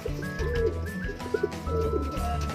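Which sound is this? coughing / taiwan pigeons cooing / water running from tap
taiwan pigeons cooing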